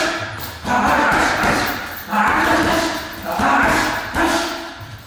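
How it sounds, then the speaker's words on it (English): Punches land on an uppercut boxing bag in a workout, with heavy thuds and scuffing arriving in a few grouped bursts, loud and close, with no voices. "I'm gonna do a couple rounds on the uppercut bag."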